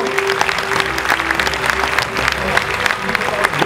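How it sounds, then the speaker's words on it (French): A steady burst of audience clapping fills an awards evening hall, dense and continuous from start to finish with no voices on top. "Merci de vos applaudissements, ça me touche vraiment."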